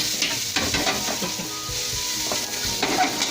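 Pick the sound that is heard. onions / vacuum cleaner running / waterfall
onions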